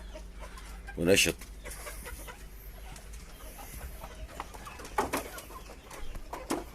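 Backyard flock of about fifteen hens, four roosters and four young chickens kept for sale, giving scattered clucks and short calls, one louder call near the start and a few more later, over faint background with a brief word spoken.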